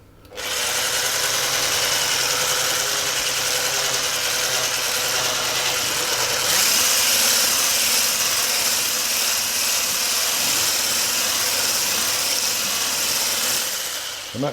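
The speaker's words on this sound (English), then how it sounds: "I'm just going to whisk those in." An electric whisk whirs continuously, loud and close, beating cream with milk powder and half a teaspoon of vanilla extract for a banoffee pie topping, the motor tone shifting slightly midway before stopping.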